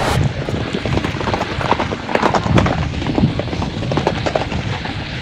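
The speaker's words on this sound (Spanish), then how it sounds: "Carreras de caballos." Horses gallop in a horse race, heard loud and up close as a dense, rapid drumming of hooves that continues without a break, with no talking over it.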